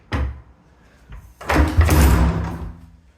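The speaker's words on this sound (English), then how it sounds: "a fire door, which we're going to close" A fire door in a rented residential property swings shut, with a sharp knock at the start, then a louder heavy thud and rattle as it closes. Nobody speaks.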